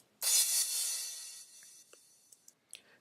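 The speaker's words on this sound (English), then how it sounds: "The first sound we have here is a crash cymbal" Crash cymbal heard on its own in a music mix, one bright hit that washes out and decays over about a second, followed by a few faint clicks.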